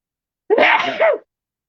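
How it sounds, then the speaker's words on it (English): A single sharp human sneeze, close and loud, lasting under a second and heard alone against silence. "here comes the sneeze"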